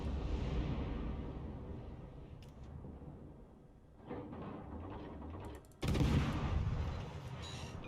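Warship main guns fire in World of Warships Legends, heavy booming blasts over a constant rumble of engines and mechanical whirring, with a loud salvo near the end.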